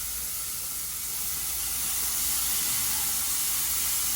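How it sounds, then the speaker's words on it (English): Carne asada meat on a really hot grill gives off a steady, loud, close hiss of sizzling that holds evenly throughout, with no voices. "So now we're gonna go ahead and put this on a really hot grill"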